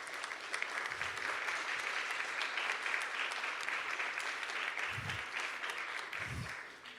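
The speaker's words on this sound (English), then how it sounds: "a big applause for you again" Audience applause at a sponsor talk, a steady sustained clapping that fills the room at even loudness, with a few low thumps underneath.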